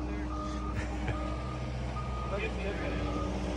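A truck backs up with a steady series of loud reversing beeps over a low diesel engine rumble. A voice speaks over the beeping near a baler rebuild with a crane and outrigger.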